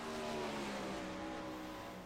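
A World of Outlaws sprint car roars through a qualifying lap on a dirt track, its engine a steady, droning mechanical tone heard from a distance, with a faint shift in pitch as it runs.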